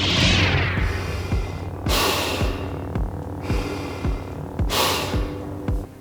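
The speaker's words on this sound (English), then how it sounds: "Put your snorkel in your mouth and I want you to feel comfortable with your snorkeling. Breathing just using your mouth." Breaths drawn through a snorkel held in the mouth come as slow, hollow, rasping inhales and exhales, about five full cycles, close and steady, with no talk.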